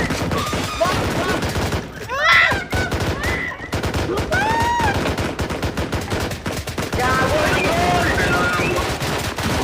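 Dense, continuous gunfire in the video game Blackhawk Rescue Mission 5 during a raid: loud rapid automatic bursts and overlapping shots throughout, with shouted voices mixed in.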